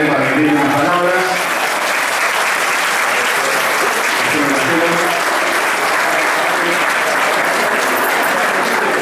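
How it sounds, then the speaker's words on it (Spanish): Loud, sustained audience applause fills a 50th anniversary ceremony hall, a dense, steady clapping from a large crowd with a voice speaking over it early on. "Fuerte el aplauso para él"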